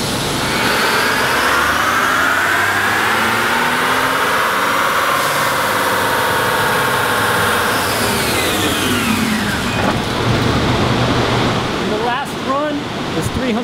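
A 2017 Ford F-150 with a 3.5L EcoBoost engine on a dyno rises through a long, loud roaring pull, then lifts off to a falling engine note with a few brief blips near the end.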